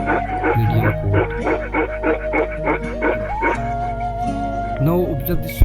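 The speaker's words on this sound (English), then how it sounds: "Just to observe the barking on this dog." A Himalayan livestock guardian dog with a black mask, hairless legs and medium coat barks and howls in a rapid run of loud, close, rhythmic yelps that stretch into drawn-out wavering howls, with no talk over them.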